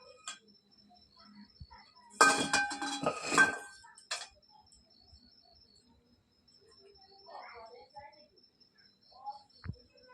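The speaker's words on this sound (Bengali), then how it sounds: "দেখি বন্ধুরা কেকটা কতটা হয়েছে একবার দেখে নিই ঢাকাটা খুলে দিই এবার" A pot lid is lifted off a cake baking on a clay stove, giving a loud burst of metallic clatter and scraping for about two seconds, followed by a few faint clinks against a quiet background.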